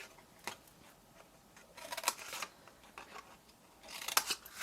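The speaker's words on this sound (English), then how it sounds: "cut up the sides of the wider triangle on both sides because they're the bits that are going to fold in" Scissors cut through card in several short snipping strokes, with crisp bursts separated by brief pauses and a quieter rustle of the card being handled between cuts, close and fairly soft.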